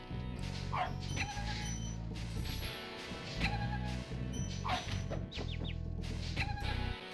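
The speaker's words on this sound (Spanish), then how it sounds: "¡Me ha comido un perro!" A dog enemy in the video game Spyro the Dragon barks and yips in short repeated bursts over looping game music, the calls close and fairly prominent.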